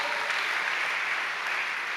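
Congregation clapping during a church service, a dense, steady burst of applause filling the room at moderate loudness without talk.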